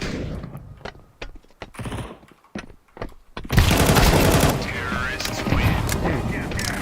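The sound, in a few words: gunfire in video game Counter-Strike 2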